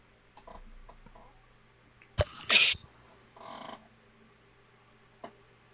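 A single short sneeze bursts out sharply in a quiet room during a Champions Online session, followed by a brief breathy tail and a few faint clicks.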